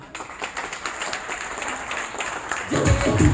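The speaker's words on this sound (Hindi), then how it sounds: "जबरदस्त ताली होनी चाहिए गुड़िया के लिए।" Crowd applause at a motivational network-marketing seminar in India, steady clapping from an audience throughout, swelling louder near the end as voices and cheering join in.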